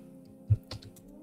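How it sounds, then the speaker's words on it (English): Keys on a computer keyboard are struck in a brief, close burst: one firm tap followed by a few lighter clicks in quick succession. "I'm going to type in gift your child"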